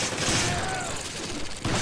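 Rapid gunfire in the video game Resident Evil 5, a dense burst of loud shots filling the moment with little pause.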